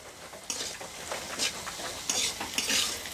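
Onion, garlic and salt fry in a pan as a utensil stirs them. A soft sizzle runs throughout, broken by several sharp scraping strokes against the pan. The sound is close and fairly quiet.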